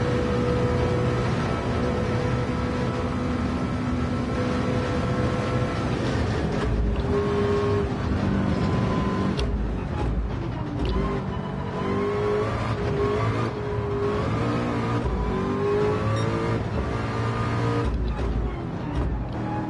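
A race car engine roars through a VR Le Mans racing game, a constant loud drone with rising and falling revs and gear changes, close and unbroken throughout.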